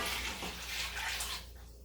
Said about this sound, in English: So I'm gonna just add 4 cups of water.